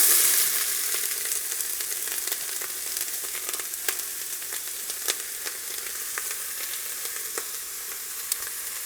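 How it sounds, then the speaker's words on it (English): Onions fry in warmed coconut oil at the start of a butternut squash soup, a close, even sizzle with scattered sharp pops and crackles that ease off slightly after the first moment. "let's go ahead and let's add our onions"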